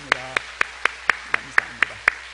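Steady, evenly spaced sharp claps, about ten in a row at a brisk regular beat, ring out at a children's summer Bible school at Buyeo Jungang Church as the audience thanks the teachers, with a faint voice briefly underneath at the start.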